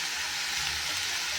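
Masala with red chili powder sautéing in hot oil, giving a continuous, even, hissing sizzle at close range with no other sounds.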